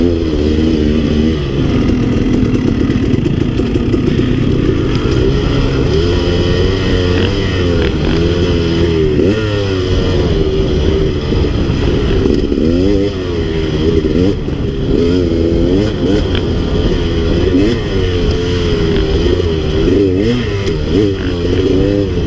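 Motorcycle engine on a technical trail, ridden slowly with constant loud revving that rises and falls in pitch as the throttle is worked, close up and continuous with no talk.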